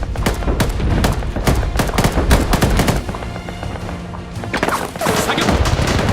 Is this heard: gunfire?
yes